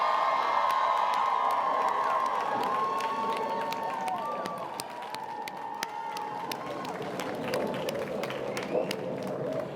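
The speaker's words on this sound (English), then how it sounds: "a big round of applause and cheer" A large audience at a college graduation ceremony cheers and claps continuously, with scattered whoops and shouts rising over a dense roar of applause in a big hall.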